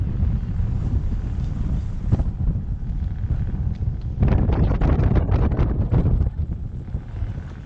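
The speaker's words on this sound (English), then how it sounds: "it's pretty windy out there" Strong wind buffets the microphone aboard a sailboat at sea near a reef off Makemo in the Tuamotus, French Polynesia, a loud continuous rumble with gusts that swell and fade.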